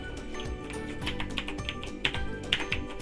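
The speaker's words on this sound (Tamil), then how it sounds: "ஒரு டெக்ஸ்ட் எடுத்து இங்கே டைப் பண்ணுறேன்" Text being typed on a computer keyboard while working in Photoshop: a close, steady patter of key clicks with a few louder strikes, running over a faint background hum.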